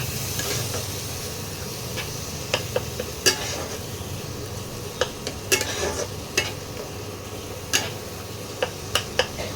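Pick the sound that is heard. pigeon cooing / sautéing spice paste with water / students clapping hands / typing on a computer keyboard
sautéing spice paste with water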